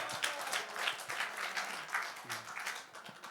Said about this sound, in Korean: 어이, 박수.